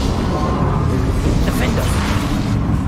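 Confringo fire spell blasting in the Hogwarts Legacy video game: a dense, rumbling, continuous roar of booming bursts running loud and close throughout, with no clear pauses.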